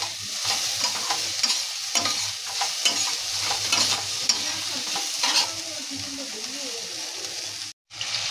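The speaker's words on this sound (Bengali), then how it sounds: "দেখো তেলে পেঁয়াজ ভাজতে বসিয়ে দিয়েছি।" Onions fry in salted oil in a wok-style pan for biryani, a steady close sizzle with scraping stir strokes throughout, briefly cutting out near the end.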